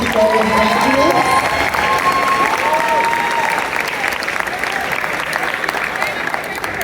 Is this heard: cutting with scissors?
no